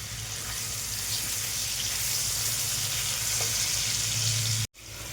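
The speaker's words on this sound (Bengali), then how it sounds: "এবার এই তেলের মধ্যেই ভেজে নেব" Paneer pieces fry in hot oil with a loud, dense, continuous sizzle and a low steady hum beneath, uninterrupted until a brief cut near the end.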